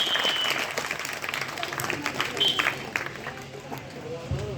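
Loud, dense applause from a large audience at a student exercise demonstration event at Gurukul Aryanagar in Hisar, Haryana, with crowd murmur mixed in and a few whistles rising over the clapping.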